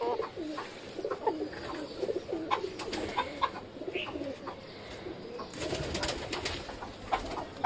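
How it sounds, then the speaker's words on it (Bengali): Silkie chickens give soft, low, repeated cooing clucks at a moderate distance over a faint outdoor background, and no one speaks. "এর নাম হচ্ছে সিল্কি মুরগি।"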